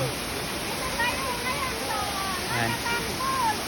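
A waterfall in a rural province, its clean water pouring down in a steady, close, broadband rushing roar that fills the whole stretch, with faint voices underneath.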